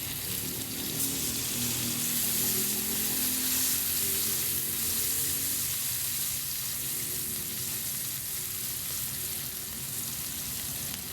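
Onions sauté in a hot pan for squid adobo, a steady, dense sizzle and crackle of frying that stays close and even throughout with no talk over it.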